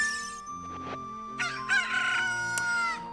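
Cucco chicken crowing in the video game Ocarina of Time, a loud, close cock-a-doodle-doo with clucking and game chimes mixed in, about three seconds long.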